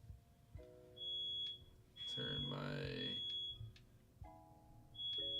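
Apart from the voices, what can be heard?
smoke alarm beeping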